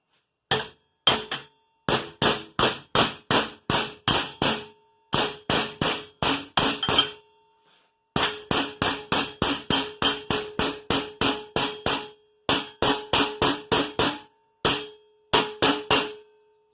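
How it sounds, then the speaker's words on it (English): Sharp metallic body hammer blows forming a metal Gibson tractor brake band, in quick regular series, close and loud, with short pauses between bursts and a ringing tone on each strike. "Take my little body hammer, start forming this, so be prepared for a noise alert."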